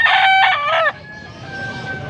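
A rooster crows once, loud and close, at a chicken market in Angeles, Pampanga. The harmonic call lasts under a second and gives way to quiet market background.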